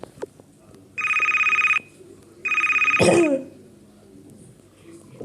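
A mobile phone rings in two electronic bursts, followed by a brief cough or throat clearing nearby, then quiet.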